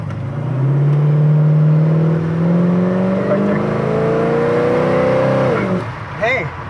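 A 1972 El Camino with a big-block 400 accelerates in a loud, close, low engine drone that climbs steadily in pitch for several seconds, then drops off sharply as it eases, with a brief squeal-like burst afterward and no talking.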